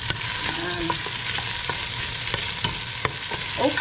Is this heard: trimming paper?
no